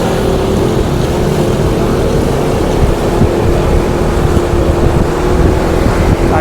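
Honda PCX 160 scooter pulling away under acceleration while carrying a passenger, a steady engine drone buried in heavy wind rush across the microphone, loud and continuous for the whole stretch.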